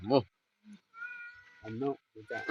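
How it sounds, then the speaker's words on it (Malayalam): A cat meows several times close by, with short drawn-out calls between quiet gaps. "പൂച്ച വന്നു"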